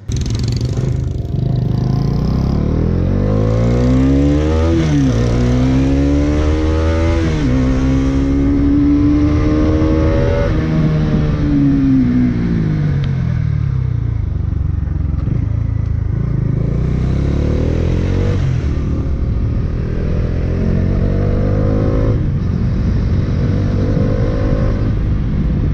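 A Bajaj Dominar 400 motorcycle engine revs loudly and close, climbing and dropping in pitch through repeated throttle blips and gear changes over a steady mechanical roar.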